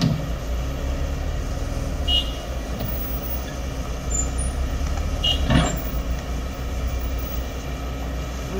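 A ten-wheeler truck stuck in soft mud at a pond-digging site, its heavy diesel engine rumbling loud and steady under strain, with a brief hiss near the middle.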